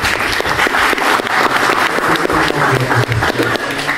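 Loud applause from a seminar audience after a talk on game publishing, steady close clapping lasting about four seconds, with a faint low voice murmuring underneath.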